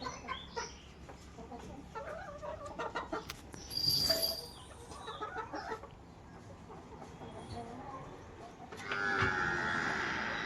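Hens cluck on a goat farm, a run of short rhythmic clucks and a louder squawking burst, with a further clucking outburst near the end over faint farmyard background.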